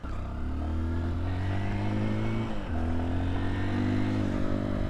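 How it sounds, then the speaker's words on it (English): Cold carbureted Honda XR150L motorcycle engine warming up, a loud, close, steady low idle with strong harmonic drone that dips and wavers briefly near the middle before settling back to a rough, even idle. "She's cold, got to warm up that motor."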